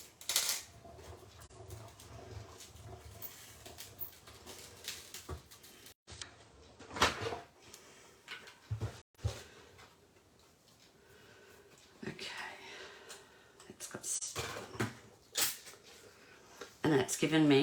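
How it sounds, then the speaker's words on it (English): A Big Shot cut and emboss machine cranks a card through for a Mother's Day card, giving intermittent close clunks, rolling grinds and clicks, with someone talking throughout. "Right, we'll pop that through the Big Shot."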